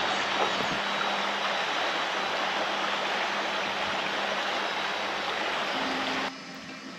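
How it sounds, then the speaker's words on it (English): A stream rushes and bubbles in a continuous broadband wash, close and steady, then drops noticeably quieter just before the end. "you can just hear the river right over that wall there, just bubbling past"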